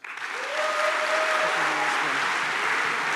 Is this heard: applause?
yes